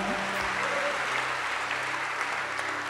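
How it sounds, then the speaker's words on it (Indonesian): A church congregation applauds during a worship service, a steady dense wash of clapping that fills the whole moment without a break. "Yang percaya sekali lagi berikan tepuk tangan paling meriah bagi Dia."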